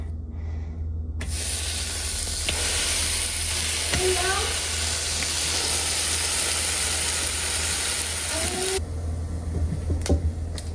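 Turkey bacon frying in a coated pan sizzles and hisses steadily and loudly up close. The sizzle fades briefly near the end, and a few light scrapes of stirring break through it.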